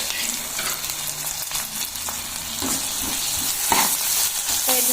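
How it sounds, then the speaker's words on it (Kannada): Mashed boiled potato and carrot go into a hot pav bhaji pan, giving a steady sizzle with scraping, stirring clatter and a few sharper knocks of the spoon, close and fairly loud throughout with no voices. "ನಾವಿಲ್ಲಿ ಎಲ್ಲಾನು ಕುದಿಸ್ಕೊಂಡು ಮ್ಯಾಶ್ ಮಾಡಿ ಇಟ್ಕೊಂಡಿದ್ದೀವಲ್ವ, ಆಲೂ, ಕ್ಯಾರೆಟ್, ಅದನ್ನು ಹಾಕೋತಿದ್ದೀನಿ."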